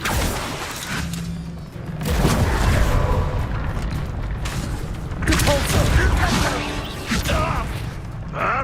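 Spell combat in Hogwarts Legacy, with the Bombarda blast among repeated booming spell explosions and mechanical rumbles, loud and dense, while a voice shouts spell names over the clamor.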